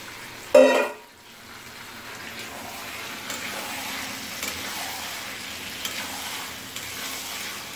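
Chicken pieces dropped into fried spices in a hot pan: a brief loud splash-hiss at the start, then a steady close sizzle with faint stirring scrapes, no talking.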